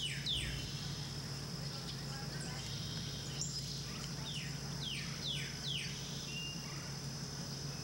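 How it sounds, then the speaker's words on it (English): Birds call in Corkscrew Swamp Sanctuary, repeated descending chirps and whistles at moderate distance over a steady hum of insects, with no talk. "Listen for the bird calls."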